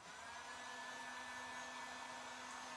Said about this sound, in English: that's where my heat gun is going to come in handy again, just to kind of help speed up the process here